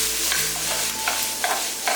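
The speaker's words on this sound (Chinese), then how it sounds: "翻炒1小会" Potatoes, sausage and shiitake mushrooms stir-fried in a hot wok, with a steady loud sizzle and a few quick scraping tosses of the spatula spaced through it.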